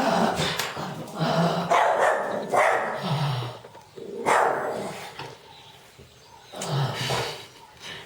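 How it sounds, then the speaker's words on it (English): Dog barking indoors in several loud, gruff bursts separated by short pauses, close and clear over a quiet background. "that's the dog."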